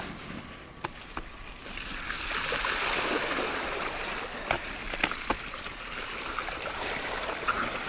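A mountain stream rushing through a gorge, a continuous broadband burble and hiss heard close by, with a few sharp clicks and knocks scattered over the flowing water.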